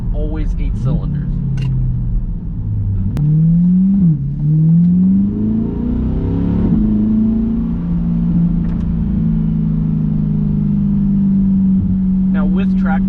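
A Corvette C8 V8 with a Corsa cat-back exhaust, locked in track mode on all eight cylinders, revs up and down and then settles into a loud, steady drone, close to the listener.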